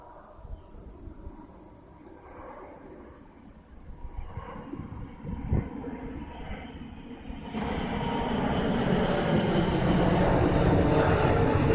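A plane passes overhead on a street, its engine roar building from a faint distant rumble to a loud, steady broadband drone that holds through the end, with no talking.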